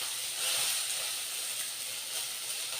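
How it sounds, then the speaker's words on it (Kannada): Whole green chillies going into hot oil in a pan, heard as a broad, steady hiss of frying that swells briefly and holds evenly for a few seconds, with no talking. "ಮೆಣಸಿನ್ಕಾಯಿನೇ ಹಾಕೋತಾ ಇದ್ದೀನಿ"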